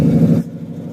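A Ford Mustang fitted with a Shelby remote clutch reservoir kit roars loudly with its engine running, then abruptly drops to a quieter, rougher rumble halfway through the brief moment.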